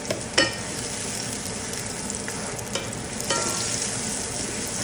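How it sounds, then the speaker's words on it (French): Homegrown early white onions sizzle and fry steadily in a pan, a continuous close crackle broken by a few louder stirring scrapes and bursts of spatter, with no talking. "Je laisse encore revenir un petit peu les oignons"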